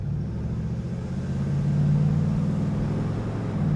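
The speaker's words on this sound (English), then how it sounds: "Listen to the sound of the Oldsmobile V8." A 1966 Oldsmobile Toronado V8 drones steadily while the car is driven on a main road, a close, loud low rumble that swells a little as it pulls, with no talking.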